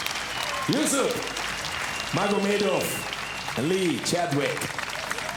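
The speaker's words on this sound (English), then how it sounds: "give these two warriors a big applause" Audience in Amsterdam applauding two MMA fighters at an LFL Grand Prix final, a steady wash of clapping beneath an announcer's amplified voice.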